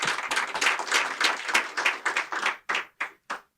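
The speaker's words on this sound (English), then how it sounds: "I want you to now give him a proper round of applause." Conference audience applauding a defence and security speaker: dense clapping that thins out into a few separate, sharp claps before stopping, fairly close.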